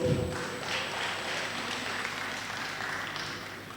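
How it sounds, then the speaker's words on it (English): An audience at a forum on disability and inclusive education gives a sustained round of applause, a steady, even wash of many hands clapping at moderate distance that continues throughout. "A round of applause, please."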